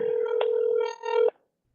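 Telephone dialing before a late-night prank call: a steady tone with a few brief keypress blips, then it cuts off into silence.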